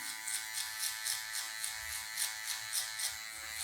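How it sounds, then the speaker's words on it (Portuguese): An electric finishing trimmer's tip cleans up guide markings on a V-shaped mid fade haircut, giving a steady close-up buzz that pulses rhythmically a few times per second as it works, with no talking. "com a ponta da máquina de acabamento."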